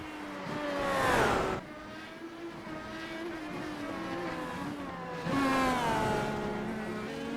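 IndyCar race cars in a video game at the Belle Isle street circuit cross the finish line, two loud engine passes with rising and falling whine near the start and end, a steady engine drone between.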